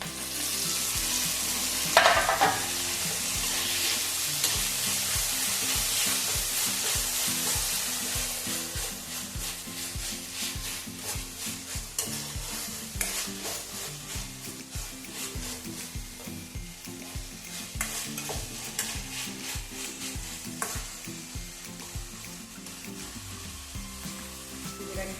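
Tomato frying and being stirred in a pan for cauliflower and green peas curry, with a continuous loud sizzle and repeated scraping stirs that carry on steadily throughout.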